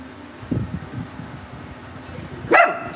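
A dog barks twice, a few gruff low barks followed by a sharp, louder bark near the end, with quiet background hum between.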